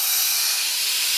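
Steady rushing hiss of air pumped into a tubeless scooter tyre through the open valve stem with the valve core removed, fitted on a Vespa or Lambretta-style wheel, loud and continuous with no talk.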